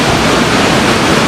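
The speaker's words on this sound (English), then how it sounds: "the sound is deafening as the fast-moving water thunders through the rock" Fast-moving river water thunders through a sheer marble gorge more than 100 metres deep, a loud, dense, unbroken roar with no pauses and no voices.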